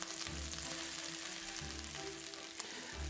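Italian sweet sausage hitting a wok with onions and peppers, giving a steady close sizzle and crackle with a faint stirring scrape near the end.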